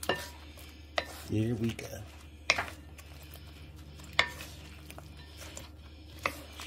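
Buffalo wings are tossed in sauce in a bowl, giving soft wet sloshing and a few sharp clinks and scrapes from utensils. A brief spoken remark comes partway through, and the sounds are fairly quiet against a low background hum.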